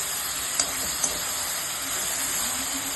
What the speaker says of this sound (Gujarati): દાળમાં વઘાર કરી દીધું છે તેલ નાખી છે